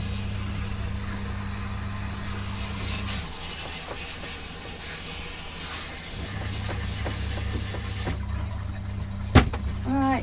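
A home washing machine spinning fast, a steady hum and hiss with a low droning tone that drops out and returns, plus occasional knocks and a sharp clatter near the end.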